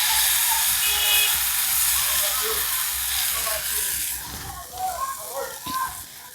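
Thin rice batter for chitoi pitha hitting a hot oiled pan, a loud steady broadband hiss and sizzle that eases slightly toward the end, with a few light clinks and bubbling pops, no speech.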